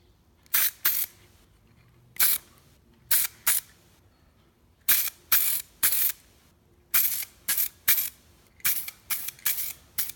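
Aerosol spray paint laying a heavy third coat during a minor touch-up, in short close hissing bursts, often in quick pairs, with brief silences between.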